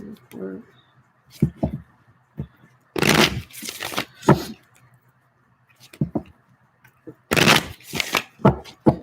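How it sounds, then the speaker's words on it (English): A deck of playing cards is shuffled in bursts of riffling and snapping, close to the microphone, with a person talking in between. "Sorry I take forever to shuffle,"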